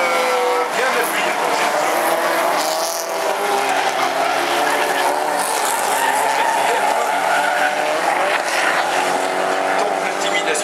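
Rally race car braking hard on a dirt section at a Fol'car event in Châteauroux, with a continuous loud roar of engine and skidding tires throughout, while a commentator talks over it.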